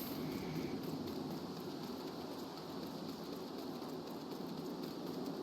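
Steady, dense rain falls continuously in Final Fantasy XIV: A Realm Reborn, a constant wash of patter and splashing with no breaks or talking.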